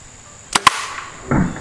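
Two sharp, close impacts of an arrow tipped with a Walmart broadhead striking the side of a football helmet at about five yards, a quick double crack followed by a softer rustling thud.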